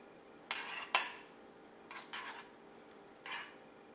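A spoon clinks and scrapes against a bowl while melted chocolate is mixed for Nutella brownies, with a few separate taps and short scraping strokes at close range and no talking.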